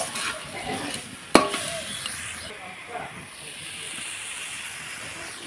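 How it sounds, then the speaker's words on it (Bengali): Cabbage frying with turmeric in a pan while being stirred, giving a steady soft sizzle and hiss with one sharp utensil clink against the pan early on, continuing evenly at close range. "বাঁধাকপিটা সুন্দর ভাজা ভাজা হয়ে এসছে"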